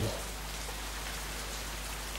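Rain pours down without a break, a broad even wash of drops close by, with a faint thump at the very start and no one speaking.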